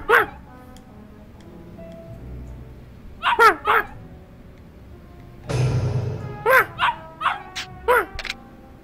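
A dog barks in the video game Yakuza Kiwami, several sharp clear barks in short bursts, close and loud over a quiet game background, with a brief noisy rush in the middle.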